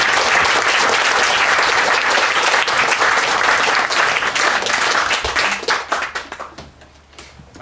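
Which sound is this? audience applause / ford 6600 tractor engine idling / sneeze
audience applause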